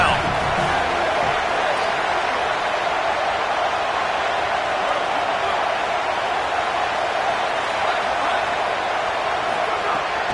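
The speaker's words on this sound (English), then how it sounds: "Decibels rising as the crowd gets behind this defense on 3rd down." A football stadium crowd roars steadily as the home fans rally behind the defense on third down, a dense and loud wall of cheering that lasts throughout.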